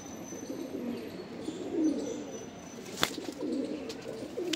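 Soft, low coos of Madrasi pigeons murmur continuously in the background, with one brief sharp clack partway through.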